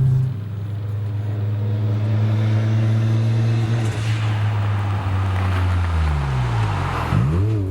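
A 400 hp Mazda FC RX-7 engine drones loudly and steadily, then its pitch climbs and sweeps as it revs hard at high RPM; no voices.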